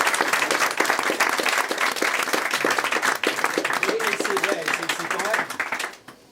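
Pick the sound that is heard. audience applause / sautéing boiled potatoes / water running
audience applause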